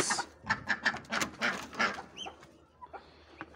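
Caged pigeons on a farm at morning feeding time give soft, close clucking and cooing calls in a busy cluster, then thin out to a few faint calls, with no one talking.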